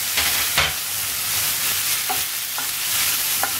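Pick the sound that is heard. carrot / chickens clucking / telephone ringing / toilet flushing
carrot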